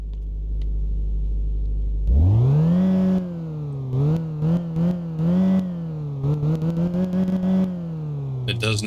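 A car engine running with its air filter removed starts up around two seconds in, then idles and revs in a series of short throttle blips, with a steady mid-pitched rumble between them.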